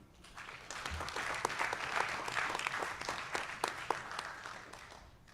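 Steady crowd applause at a board of education meeting honoring All-County Art students, dense overlapping clapping at moderate volume that swells and holds for several seconds.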